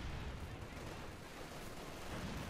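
MG42 machine guns chatter in a Company of Heroes 2 battle, a steady, distant wash of rapid gunfire and rumbling battlefield noise that never lets up, with no one talking.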